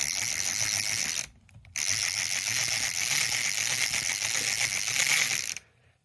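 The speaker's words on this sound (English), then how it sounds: "you will see that the gears inside are actually stripping" A fishing reel with stripped internal gears grinds and ratchets continuously as the handle turns, a close, loud mechanical rasp with one short pause early on, then stopping near the end.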